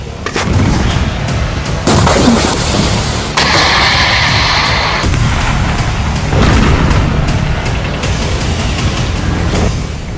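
Explosions strike IDF military vehicles during fighting in Gaza: loud, rolling booms and blasts follow one another for about ten seconds over constant rumbling, with no voices.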